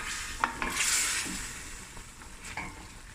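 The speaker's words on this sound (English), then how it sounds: "Give this a stir." Cabbage and meat are stirred in a cooking pot for Cape Malay cabbage frikkadel, with a spoon scraping and clinking over a soft background sizzle, a few distinct stirring strokes close by.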